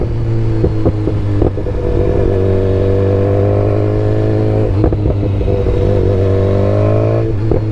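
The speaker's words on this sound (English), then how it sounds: "Are you tired of the exhaust note yet?" BMW S 1000 XR sport-touring motorcycle riding through town, its engine note loud and continuous from the rider's position, with steady harmonic drone that rises and falls as throttle changes, a brief gear-change dip near the middle.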